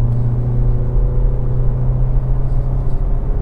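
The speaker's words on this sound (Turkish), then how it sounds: "Arabada 90'dan sonra hafif bir yol sesi." Steady low road and tire rumble inside a Skoda Karoq driving uphill at around 90 to 100 km/h, a constant droning hum with no speech, moderately loud and even throughout.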